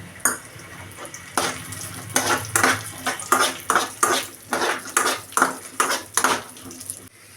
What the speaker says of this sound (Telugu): అవి కొంచెం ఫ్రై అయ్యాక కొంచెం కిస్మిస్ కూడా యాడ్ చేసుకోండి.